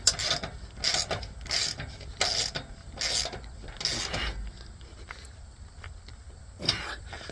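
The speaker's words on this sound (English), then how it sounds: "put your ratchet on there, tighten her up." Hand ratchet tightening the hitch pin of a Velocirax 7 bike rack in a receiver hitch, six sharp rhythmic clicking strokes near the mic, then a quieter stretch with a final click.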